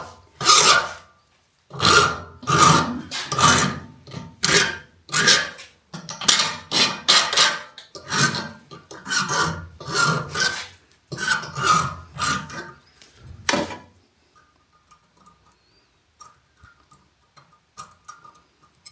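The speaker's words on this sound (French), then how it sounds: "Je vais vous donner un coup de lime là." A metal file rasping on a vacuum cleaner filter cartridge part, rhythmic close scraping strokes in quick bursts for over ten seconds, then near silence with faint light taps.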